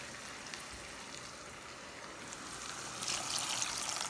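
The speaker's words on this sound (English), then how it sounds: "I've added some more chicken stock to the molcajete." Chicken stock pours steadily into a molcajete with a soft, continuous trickling wash that swells a little louder toward the end; no voices.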